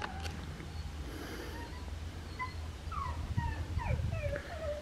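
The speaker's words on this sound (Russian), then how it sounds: "С игрушкой ходит и скулит." A puppy whines softly while walking around carrying a ball toy, giving thin high-pitched whimpers that come in short rising and falling bursts over a low background rumble.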